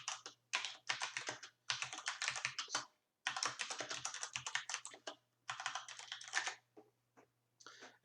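A command is typed on a computer keyboard: rapid close key clatter in several bursts of steady tapping, separated by short pauses, with a faint low hum underneath.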